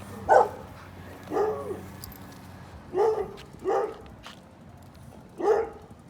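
A dog barks from behind a fence at some distance, five separate barks spaced irregularly over several seconds with quiet gaps between them.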